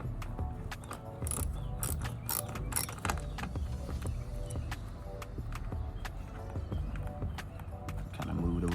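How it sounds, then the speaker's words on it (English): A screw being driven into the rear turn signal housing of a Lexus IS during an LED upgrade, giving steady clicking, ratcheting turns close up, with a few sharper clicks mixed in. "Hand start the screw just a little bit, and then start screwing it in."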